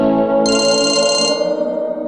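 An incoming call sets a phone ringtone going, a bright, loud melodic tone that sounds close and alone, with a higher chiming layer partway through before it fades slightly.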